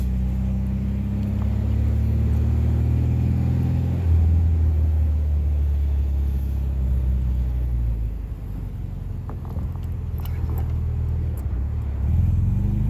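A 1968 MGB car driving over speed bumps with clutch and brake work, heard from inside as a loud, steady low engine and road rumble that swells and eases slightly over the stretch, with no talking.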